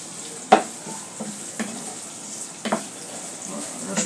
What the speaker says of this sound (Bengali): রসুনটা মরিচটা ভেজে নিলাম